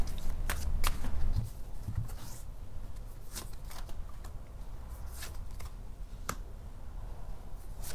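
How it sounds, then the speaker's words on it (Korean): Tarot cards shuffled and drawn close up, with a dense riffling burst at the start followed by scattered soft flicks and slaps as cards are handled and pulled, no talking. "제가 카드를 한번 뽑아볼게요"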